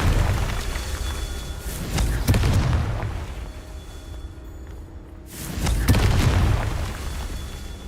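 Confringo spell blasts in Hogwarts Legacy sound as deep, booming explosions, two big roaring bursts with a rumbling tail and a brief quiet gap between them.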